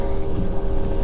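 Steady low rumble of a passing motorboat near a Whitsundays reef, a constant engine drone with a faint tonal hum, carried under wind buffeting on the microphone and no voices.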